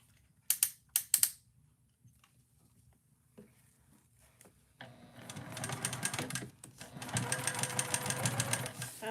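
A sewing machine stitches a heart bag, a fast steady mechanical rattle that starts after a few clicks and quiet handling and then runs continuously at moderate volume, rising in intensity toward the end.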